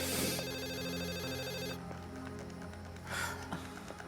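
A telephone rings in a tense indoor drama scene, a steady electronic ring with sustained tones for about two seconds, then quieter room sound with a brief swell near the end.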